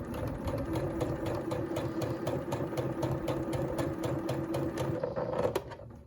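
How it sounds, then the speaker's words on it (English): A sewing machine sews a straight stitch along a blue line on quilt fabric, running close and steady for about five seconds before it stops. "now I sew on that blue line"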